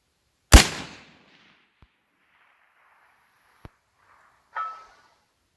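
Heckler & Koch SL8 rifle firing a 73 grain ELDM bullet at long range: one loud, sharp shot with a rolling echo, then a faint distant tick and a softer delayed report downrange.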